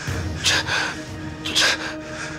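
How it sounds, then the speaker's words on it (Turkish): A man breathing with strain and effort, two heavy, rasping breaths close up with short pauses between, no talk over them. "Abi nefes alırken zorluyor."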